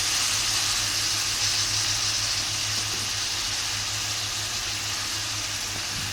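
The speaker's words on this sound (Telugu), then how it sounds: "ఇప్పుడు టమాటా కొత్తిమీర అనేది వేసేసుకుందాం" Chopped tomatoes and coriander sizzle in a hot frying pan for a tomato and ivy gourd curry, a steady close frying hiss with a low hum underneath and a few faint stirring taps.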